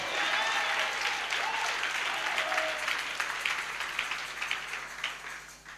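A church congregation at a French-language worship service applauds in praise, a dense, moderately distant round of clapping that gradually thins and fades over several seconds.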